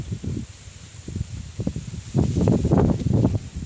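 Strong mountain wind buffets a nearby microphone in uneven gusts, rumbling and rustling louder toward the end.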